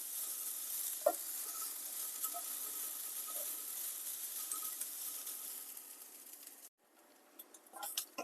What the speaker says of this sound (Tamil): வெங்காயை நல்லா வாசனை வர வரைக்கும் வதக்கிக்கலாம்.